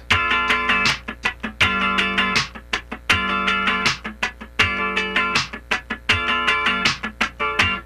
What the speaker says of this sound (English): Let's start by just playing 4 sixteenths in a row like this.